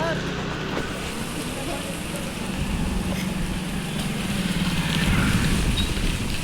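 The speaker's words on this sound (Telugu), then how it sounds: "ఎందుకంటే వర్షం పడుతుంది ఫుల్." Heavy rain keeps up a dense, steady hiss on the ground while riding home on a new electric scooter, with a low rumble of motion underneath. No voices come through.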